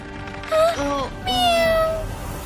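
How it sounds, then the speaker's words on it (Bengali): A cat gives two drawn-out, rising and falling meows in quick succession, close and clear, with a brief pause between them. "মিয়াও মিয়াও ডেকে আমি তোমাদের কাছে টানি"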